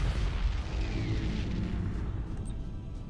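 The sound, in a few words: front cannon firing in video game Battlefleet Gothic Armada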